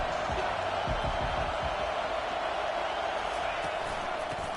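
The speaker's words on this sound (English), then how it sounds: "Decibels rising as the crowd gets behind this defense on third down" Large stadium crowd in a college football video game roaring steadily on a third down, a dense continuous wash of noise with faint thumps beneath.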